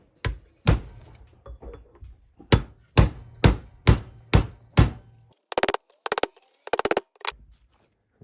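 A hammer strikes a socket to drive a bearing race into a trailer wheel hub: about a dozen sharp metallic blows in an irregular rhythm, then quicker bursts of lighter ringing taps, close and loud with no talking.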